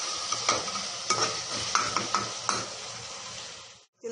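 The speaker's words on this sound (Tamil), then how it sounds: "இப்போ இதில் நம்ம நல்லா கலந்துப்போம்." Spices and red chilli powder being stirred into mutton gravy in a pan, close spoon scrapes and taps in an irregular rhythm over a soft sizzle, ending in a brief pause.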